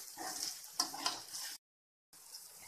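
Salt, red chili powder and turmeric powder are stirred into a curry pan, giving a soft sizzle with several scraping strokes, then a brief silence before the sizzle returns.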